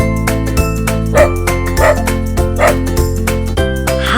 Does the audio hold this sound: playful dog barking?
yes